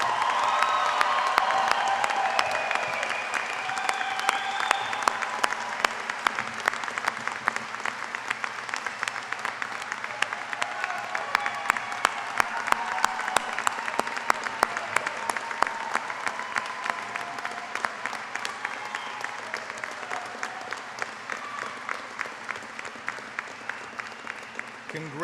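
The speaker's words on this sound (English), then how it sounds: "Let's give all of our graduates a round of applause." A graduation audience at a commencement ceremony applauds in a long, sustained round of clapping that fills a large hall, swelling early and slowly thinning toward the end, with a voice speaking over the start.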